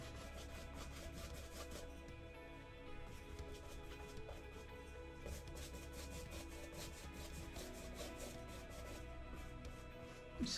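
A palette knife scrapes and drags paint across a textured canvas in faint, repeated rubbing strokes under a low steady background hum, with no talk.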